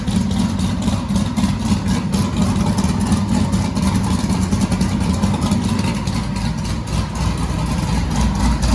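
Car engine idling during fuel tuning, a steady low rumble with slight unevenness that runs loud and close throughout, with no talk.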